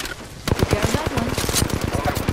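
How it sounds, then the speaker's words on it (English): Video game gunfire plays as rapid, dense bursts of shots under a busy layer of game sound, sitting close and loud with a voice speaking over part of it. "Shot fired."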